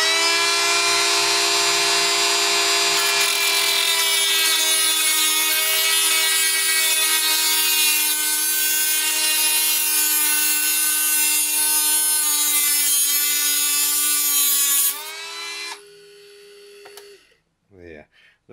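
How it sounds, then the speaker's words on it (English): A Dremel rotary tool grinds through a steel slot car axle spinning on a tire razor lathe, producing a loud, sustained high-pitched whine for about fifteen seconds before it winds down and stops with a few small clicks. "I'm going to have it spinning and at the same time cut through with my Dremel"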